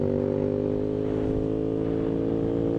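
A Ducati Monster S2R motorcycle is being ridden, its engine droning steadily and loudly close by, with wind noise and no speech.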